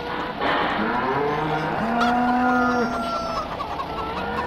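Chickens clucking and a rooster crowing in the farming video game Farming Simulator 2015, several overlapping calls close by with a long crow in the middle and little else around them.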